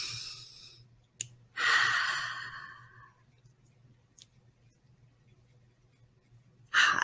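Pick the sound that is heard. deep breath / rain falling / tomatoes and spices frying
deep breath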